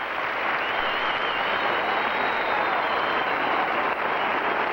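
A large audience applauds a free dance at the 1984 U.S. Figure Skating Championships in Salt Lake, dense sustained clapping from a standing crowd that holds at an even, loud level throughout.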